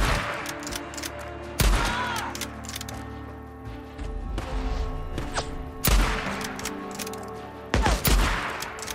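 Rifle shots ring out in the zombie video game Days Gone, a few sharp loud reports spaced seconds apart over a rumbling game soundscape.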